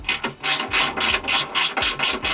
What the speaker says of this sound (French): finaliser le montage en serrant toutes les vis à l'arrière aussi